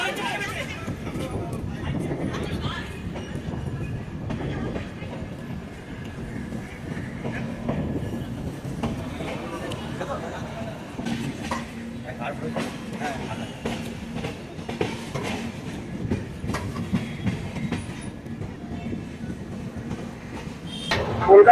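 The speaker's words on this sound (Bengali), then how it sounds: "কলকাতা স্টেশন থেকে ছেড়ে আমাদের ট্রেন তার 3 নম্বর হল্টের দিকে এগিয়ে চলেছে" Kaziranga Express (13181) from Kolkata speeding along the rails toward Rampurhat Junction, heard from inside a 3AC economy coach: a steady rumbling roll with faint rhythmic clatter, low murmur of passengers throughout.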